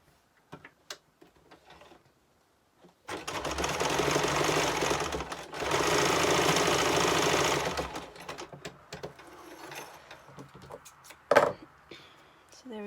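A sewing machine stitches a quilting line along a seam in two loud sustained runs of rapid needle chatter, separated by a short pause, framed by quiet handling clicks and taps.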